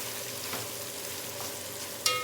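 Spices sizzle and fry in hot oil alongside already-tender cooked mutton for a white mutton pulao, a steady close crackle with occasional stirring scrapes and a sharp clink near the end.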